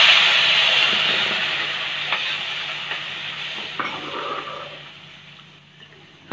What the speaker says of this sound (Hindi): हम इसमें दूध डालकर इसे तब तक मिक्स करेंगे जब तक ये एक गाढ़ा मिक्सचर ना बन जाए हमारा